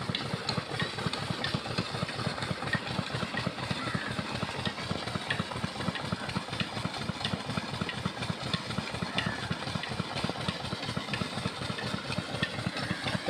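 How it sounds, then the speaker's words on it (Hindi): A double-wheel engine running on a domestic cooking-gas cylinder chugs steadily at idle on a farm, a close, rapid, even thumping pulse with a rough mechanical rattle that continues unbroken throughout. "ये डबल व्हील का इंजन है और सिलेंडर रसोई गैस से इसको चलाया जा रहा है"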